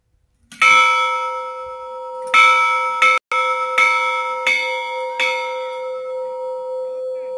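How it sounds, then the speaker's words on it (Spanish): A single bell rung by hand at the hilltop shrine of Cerro de la Virgen de María Auxiliadora; six loud, ringing clangs at uneven intervals, each leaving a long sustained tone that overlaps the next, with no talk. "Voy a tocar la campana acá en el Cerro de la Virgen de María Auxiliadora"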